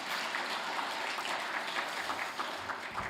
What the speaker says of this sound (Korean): 다 같이 함께 한번 영광의 박수 돌려볼까요?